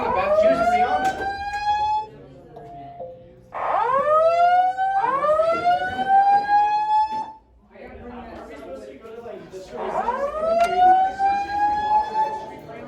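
A school fire alarm blares in a loud electronic whooping siren, repeating rising sweeps with short gaps between them, close and dominant over faint background chatter.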